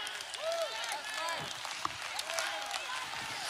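A church congregation claps in a large room, a steady soft wash of applause with a few cheers and vocal tones rising over it.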